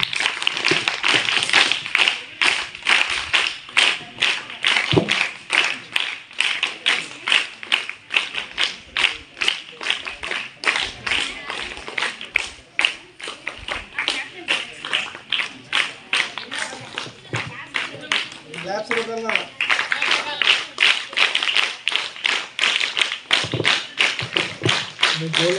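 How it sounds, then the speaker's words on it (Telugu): Sustained clapping from a crowd of students at a school investiture ceremony, with dense, rapid claps filling the space for the whole stretch and voices faintly mixed in. "క్లాప్స్ కొట్టాలన్నా"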